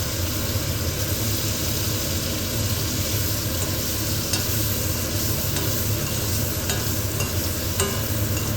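Food frying and being stirred in butter in a pan, a steady close sizzle with scraping stir sounds running throughout and no voices.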